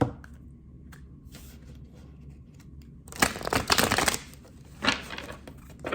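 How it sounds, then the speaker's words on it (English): Tarot cards are shuffled nearby, with a quiet stretch followed by bursts of crisp riffling and slapping card noise, the loudest run in the middle and a shorter burst near the end. "shuffle the cards"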